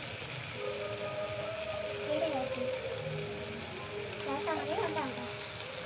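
Aaratikayya pappu, a raw banana dal, cooking in a pan gives a steady, soft sizzle and bubbling throughout, with faint voice-like tones drifting over it at moderate distance.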